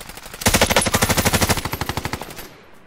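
Sustained automatic gunfire from a weapon in the video game Warzone, a rapid, steady burst of loud, evenly spaced shots lasting about two seconds before trailing off.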